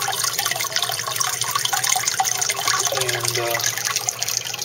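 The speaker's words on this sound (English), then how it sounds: "so now this is draining." Water drains through an aquaponics solids-lifting siphon overflow box built from a fountain soda cup, making a continuous splashing, gurgling flow; a voice briefly speaks over it.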